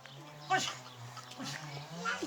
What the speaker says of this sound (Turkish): Köpeğe eziyet ediyor. Köpeği yere attı bakın.